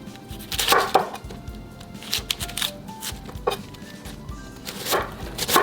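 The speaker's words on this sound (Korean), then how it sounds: "양배추도 썰어 줄 텐데요." A kitchen knife slices cabbage on a cutting board for rice-paper dumplings, giving a steady series of crisp, close chopping strokes in uneven bursts.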